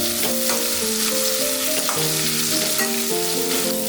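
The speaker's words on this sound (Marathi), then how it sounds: "टोमॅटो छान परतला की आपण त्याच्यात कंटोळी घालणार आहोत।" Chopped tomatoes frying in a pan for kantoli bhaji, giving a steady, dense sizzle close up, with soft music tones running underneath and no talking.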